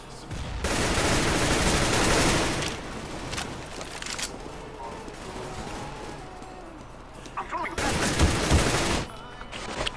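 Heavy automatic gunfire in CS:GO 2, sustained loud bursts filling most of the stretch, a quieter middle section, then another sharp burst near the end, with a player's voice faintly underneath.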